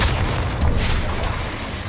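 A Confringo spell explosion in the video game Hogwarts Legacy, a loud close boom with a heavy low rumble that swells and then fades over about two seconds.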